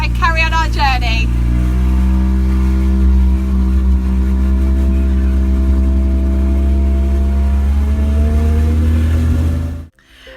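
1970s Snuggy Charly micro car engine running steadily while driving, a loud, close, continuous droning hum with a brief rising rev near the start, ending abruptly.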